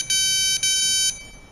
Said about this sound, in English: Press 7 with the 3 beeps.